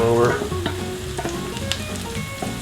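Chopped celery sizzles and crackles steadily in a hot frying pan for pasta e fagioli, with a few clinks of a utensil stirring against the pan, close and fairly loud.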